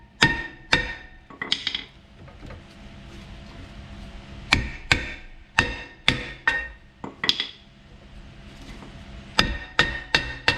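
A hammer taps repeatedly on a front brake rotor of a 2011–2022 Jeep Grand Cherokee to loosen it, giving sharp, close metallic knocks in clusters of two or three with short pauses between.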